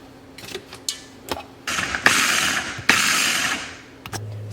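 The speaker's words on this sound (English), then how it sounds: "Now for the food processor, I'm gonna add in a few potatoes at a time." Food processor grinding and shredding potatoes for hash browns, bursts of whirring motor noise with clunks and rattles as pieces drop in, fairly loud and close.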